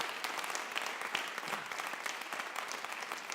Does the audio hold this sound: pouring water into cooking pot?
no